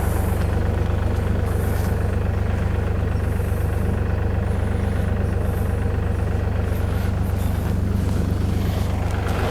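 A motor cultivator fitted with hedgehog weeders runs through a potato field. Its engine gives a loud, steady, unbroken drone close by for the whole stretch.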